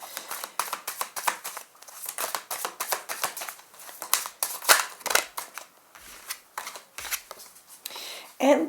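Tarot cards are shuffled by hand close up, a rapid run of papery slaps and riffles that keeps an uneven, busy rhythm throughout.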